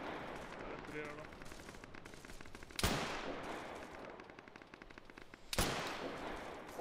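Bursts of automatic gunfire rattle on and off in a military shooter game. Two sharp, loud cracks stand out above the chatter, and team voices talk over the shooting.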